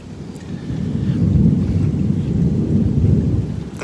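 A thunderstorm over Houston brings a loud, continuous low rumble of thunder mixed with heavy rain and wind buffeting, swelling after the first half second and holding strong throughout, with no voices.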